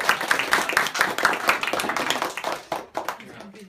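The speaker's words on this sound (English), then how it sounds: "We can go ahead and clap." A classroom of students clapping for a presenter at a literature class debate, a dense burst of hand claps with voices mixed in, dropping off toward the end.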